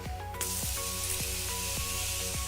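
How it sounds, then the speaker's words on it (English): A continuous broadband hiss of makeup setting spray begins abruptly and holds steady, with faint clicking and background tones beneath it. "I'm just gonna set everything with my Morphe setting spray."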